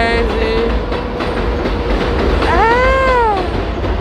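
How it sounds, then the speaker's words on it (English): A passing train sounds as a loud, steady rumble with a rising metallic squeal of wheels near the end, heard up close and without any talk. "Ah! The train."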